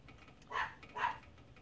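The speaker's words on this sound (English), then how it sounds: "I apologize for the barking, my dog is being yappy." A yappy pet dog gives two short barks indoors, fairly faint and set back from the microphone, with no talk over them.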